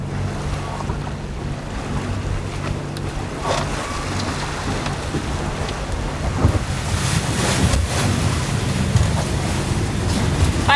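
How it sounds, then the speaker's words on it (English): Strong wind at sea buffets a sailing boat as a storm comes on, a loud continuous rush and microphone buffeting with waves washing, growing rougher toward the end. "Finally getting some wind and also getting our first storm."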